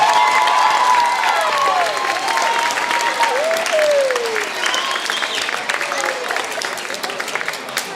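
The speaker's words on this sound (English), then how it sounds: "Let's give our 5th graders one more round of applause." Sustained audience applause with some cheering at a 5th grade farewell assembly, steady and loud for the full stretch, with a few whistles or voices rising over the clapping.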